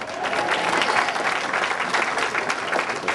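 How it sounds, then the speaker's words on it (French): A congregation at a Haitian Baptist church in North Miami Beach applauds, dense sustained clapping filling the room at steady loudness, with no talking over it. "applaudir à la gloire de Dieu"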